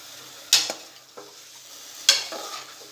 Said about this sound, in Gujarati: બધું સરસ મિક્સ કરી લઈશું।